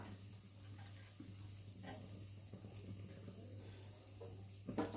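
Chopped onion sautéing in a pan with garlic and chilli paste, giving a steady low sizzle with soft stirring scrapes and a steady hum underneath, fairly quiet throughout.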